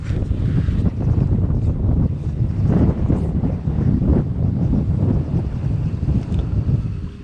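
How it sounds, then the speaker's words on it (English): Wind buffets a small fishing boat on open water near an island, a constant loud rushing roar over the microphone with low rumbling gusts and no speech. "This wind is confusing my autopilot"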